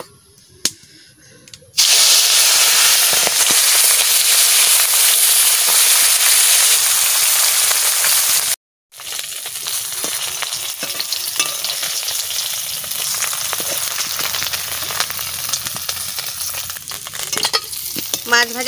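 Oil goes into a hot pan and fish fries in it, a loud, continuous sizzle that starts abruptly, drops out briefly midway, then resumes as a steady hiss with occasional crackles and stirring.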